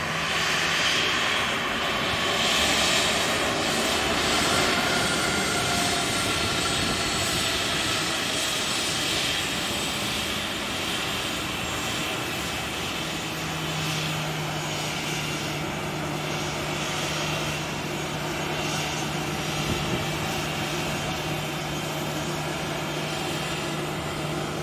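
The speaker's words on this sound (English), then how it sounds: "There she is, lining up on the runway." An airliner lines up on the runway at Sky Harbor International Airport, its jet engines a steady, distant roar with a low whine that holds for the whole stretch, no talking.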